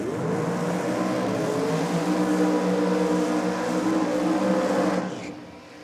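A supercharged 400 cubic inch small block Chevrolet drag racing car roars at full power at a drag strip, a loud sustained engine howl that fades away as it leaves.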